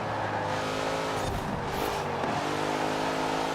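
A car in the racing game Forza Horizon 4 accelerates hard uphill, its engine a loud, continuous rising drone with a brief gear-shift dip and faint tyre noise, no talking.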